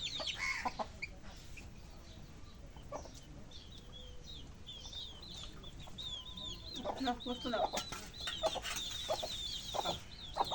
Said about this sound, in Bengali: এগুলো মুরগি হচ্ছে আমাদের বাড়ির মুরগি